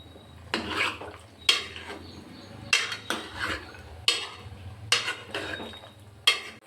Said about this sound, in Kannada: ಇವಾಗ ಚೆನ್ನಾಗಿ ಮಿಕ್ಸ್ ಮಾಡ್ಕೊಳ್ಳೋಣ.